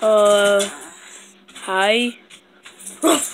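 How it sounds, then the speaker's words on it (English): A dog whimpers in drawn-out, high, wavering whines, fairly loud and close, with a brief spoken greeting between the cries. "See, that's a dog."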